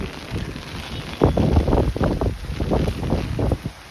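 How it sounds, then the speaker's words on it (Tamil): Strong cyclone wind in Chennai, Tamil Nadu, buffets the microphone in heavy, uneven gusts, roaring and thumping close up with a steady rush underneath. "காற்று எப்படி எப்படி இருக்குது"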